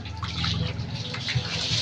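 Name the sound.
water running from an opened faucet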